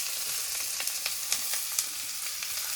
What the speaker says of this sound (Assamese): এইবাৰ পিঁয়াজ ভাজা হৈ গ'ল।